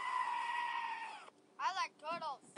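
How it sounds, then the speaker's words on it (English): Goat scream from a sound button: a steady electronic tone cuts off, then two loud, wavering, human-like bleats follow close together. "Goat scream."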